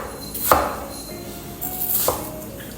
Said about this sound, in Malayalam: നമ്മൾ ഈ വാട്ടർ മെലൻ്റെ ഫ്ലഷിൽ ക്യൂബ്സായി കട്ട് ചെയ്തിട്ട്